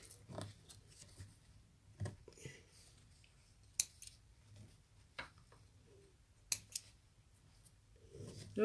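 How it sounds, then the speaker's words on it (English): Scissors snip threads in a quiet room, a handful of soft, sparse clicks and cuts spread out with long, faint pauses, close but low in level. "I've got more threads to cut."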